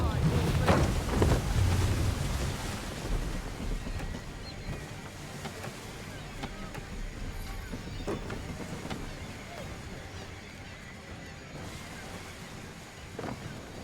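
Sailing ship at sea in Assassin's Creed III: rushing wind and surging water, louder at first, then easing into a steady windy roar with faint creaks.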